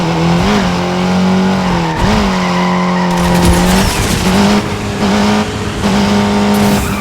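In the Need for Speed mobile game on Android, a motorbike holds a loud, sustained engine drone broken by repeated tire squeals and skids during stoppies and wheelies, with no talking.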